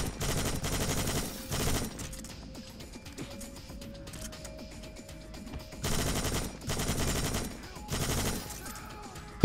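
Bursts of rapid automatic gunfire in a zombie apocalypse survival horror game, several loud volleys separated by quieter stretches with mechanical clicks, close and dense.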